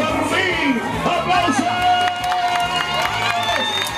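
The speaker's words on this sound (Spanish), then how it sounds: "¡Aplausos! ¡La bulla!" A crowd at a political gathering cheers and applauds, lively and close, with whistles, shouts and dense chatter throughout and a voice calling out over the noise.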